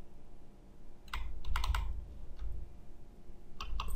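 Computer keyboard keys are typed in short bursts of quick, crisp clicks, close and fairly faint, with pauses between the runs and no voices.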